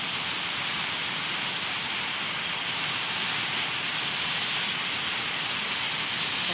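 Heavy rain lashes down under strong wind in a constant, dense roar with no pauses and no talk, loud and close throughout.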